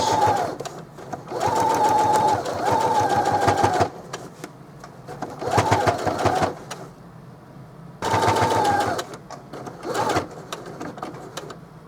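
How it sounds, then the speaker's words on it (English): A home sewing machine sewing a placemat zipper pouch, doing a short back stitch then an edge stitch, in several loud, close bursts of rapid whirring stitching separated by brief pauses. "I'm going to do a little back stitch, and I'm just doing an edge stitch."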